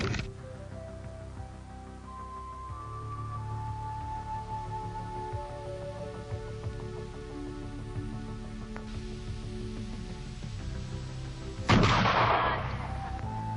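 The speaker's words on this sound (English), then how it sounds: "The sound of their rifles could alert hostile tribes to their location." Rifle fire sounds once, loud and sharp, late in the passage against steady background music, with no other shots.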